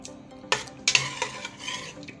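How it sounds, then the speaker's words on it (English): A spoon scrapes and knocks against a cooking pot while ogbono soup stock with crayfish is stirred, a few distinct metallic clinks over a soft background, close and clear. "we're going to stir and bring it to a boil before we add the ogbono"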